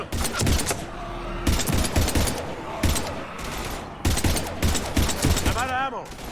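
Gunfire in a Mass Effect 3 battle, repeated loud rapid bursts separated by brief pauses, mixed with shouted voices and a warbling electronic whine near the end.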